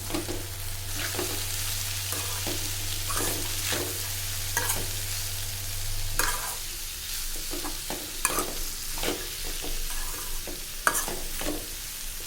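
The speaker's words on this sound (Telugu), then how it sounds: "కలిపేసి చక్కగా కలిపి మీరు ఇలాగా పప్పు ఇదంతా కలిసేటట్టు ఇట్లా కలిపేసుకొని" Dal curry is stirred in a pan with repeated scraping spoon strokes over a low sizzle. An early steady hum fades out partway through, and no one speaks.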